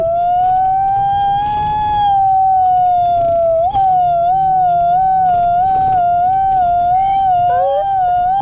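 A voice mimics an ambulance siren, a sustained wavering wail held steadily for several seconds, loud and close, with a brief break midway.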